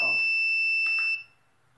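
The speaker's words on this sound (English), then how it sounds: "same thing if we click the buzzer." An electronic buzzer wired to a runlinc WiFi board sounds a steady, piercing high tone for about a second, then cuts off abruptly into near silence.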